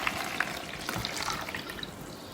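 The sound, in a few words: warm water poured into a bowl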